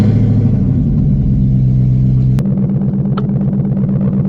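A Whipple-supercharged S650 Mustang GT engine runs with a deep, steady rumble, then shifts at a sharp click into a rougher, pulsing idle with a brief rev blip, loud and close with no talk.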